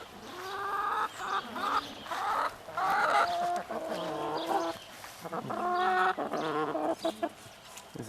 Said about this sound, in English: Let's have a look at your chickens.